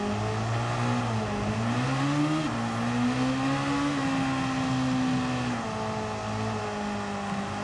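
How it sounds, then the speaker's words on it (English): Race car engines in Gran Turismo 7 rev loudly and continuously, harmonic pitch rising and falling in sustained surges with no talk over them. "These cars, they sound like you're revving the shit out of them."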